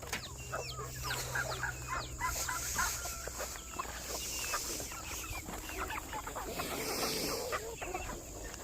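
Chickens of rare breeds cluck steadily on a farm, many birds close by and overlapping in a busy, continuous chorus, with scattered higher calls and a low steady hum beneath.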